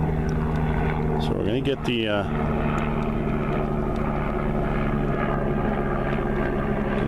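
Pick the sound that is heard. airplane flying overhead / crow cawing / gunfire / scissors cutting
airplane flying overhead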